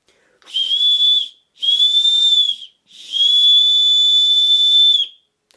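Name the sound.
small whistle made from an aluminum can being blown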